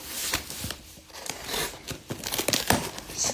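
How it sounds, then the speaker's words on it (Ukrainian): Plastic packaging from a Nova Poshta parcel crinkles and tears as it is unpacked, a close, loud, continuous rustle with sharp crackling bursts and no talk. "От запаковку при вас розпаковую."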